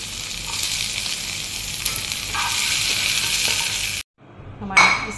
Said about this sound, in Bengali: চিকেনগুলো একটু ভেজে নিচ্ছি।